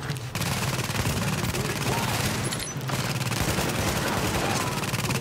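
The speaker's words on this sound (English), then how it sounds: "Maybe I'll pull out the shotgun." Dense, sustained gunfire rattles continuously from a shooter video game, The Division, with a brief dip near the middle before resuming at full intensity; no voices over it.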